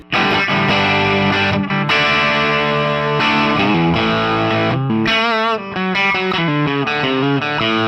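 Fuzzy, saturated electric guitar chords and lead notes from a Les Paul Jr. through a fuzz pedal ring out loudly, with a thick distorted tone and brief pauses between phrases.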